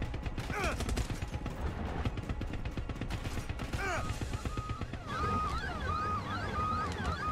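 Gunfire from a Far Cry 6 co-op session, repeated sharp shots and bursts scattered through a busy game mix with voices talking over it and a warbling siren-like tone in the second half.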